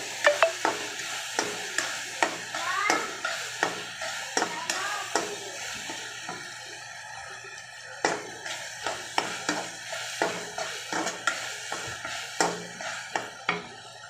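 Tomatoes sautéing with salt in a pan for chicken gravy, a soft continuous sizzle broken by a regular series of scraping stirs, close and fairly loud, with no talking.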